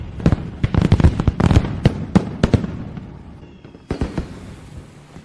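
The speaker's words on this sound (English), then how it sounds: "I set off all these fireworks for you." Fireworks set off in a string of sharp, loud bangs and crackles at close range, bursting in quick irregular clusters over the first two seconds, then a pause and a final volley with lingering fizz.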